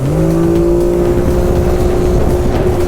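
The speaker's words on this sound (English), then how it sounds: "So you're going to turn and you're full throttle." A stand-up jet ski engine held at full throttle, a loud steady drone with a constant whine and no talking.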